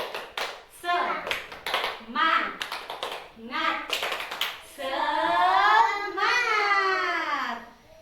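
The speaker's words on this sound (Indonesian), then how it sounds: "Yuk, tepuk semangat." Schoolchildren in a classroom join a rhythmic cheer clap, with sharp clusters of hand claps mixed into loud chanted children's voices and an adult leading, the clapping broken into short patterned bursts.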